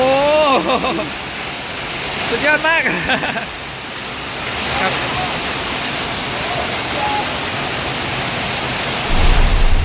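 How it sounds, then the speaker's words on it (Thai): Steady heavy rain pours in a dense, continuous hiss, with a voice speaking briefly over it near the start. "โอ้ฝนยังไม่หยุดตกอีกนะครับ"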